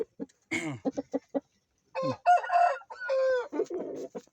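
An Indian game breeding rooster gives a few short clucks, then a loud, close, drawn-out crow with no voices over it.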